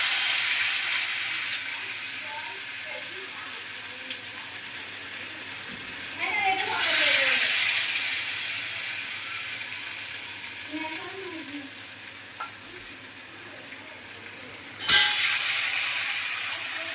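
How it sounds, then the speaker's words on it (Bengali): Pumpkin fritters sizzle in hot oil in a wok, a steady hiss that swells sharply around the seventh and fifteenth seconds as more batter hits the oil, with faint voices in the background. "তেল গরম হয়ে গেছে, বড়াগুলো দিয়ে দিচ্ছি।"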